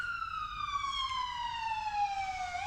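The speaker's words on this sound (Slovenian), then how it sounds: "se slišijo te sirene" Emergency vehicle sirens sound near a clinical center as one steady, gliding wail whose pitch slowly falls, moderately distant and continuous over faint street noise, with no talk.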